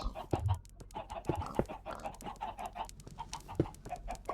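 Minecraft chickens cluck softly and repeatedly around a village chicken pen, with occasional louder squawks over a low, busy game background.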